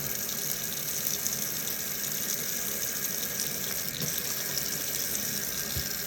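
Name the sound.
water running from a tap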